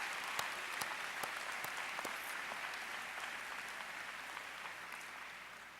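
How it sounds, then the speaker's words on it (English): Sustained crowd applause for graduates with special honors at a 2013 university College of Education commencement ceremony, dense clapping steady throughout with a few sharper claps standing out near the start. "Please join me in one more round of applause for our graduates with special honors."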